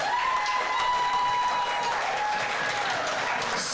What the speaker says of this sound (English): let's just have another round of applause for